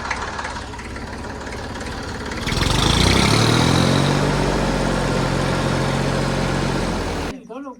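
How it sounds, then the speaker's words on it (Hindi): A tractor engine idles with a steady low rumble as it is driven from the sun into the shade, getting louder and heavier partway through, then cutting off abruptly near the end. "हमारे पिताश्री आते ही ट्रैक्टर को छाया में ले आए"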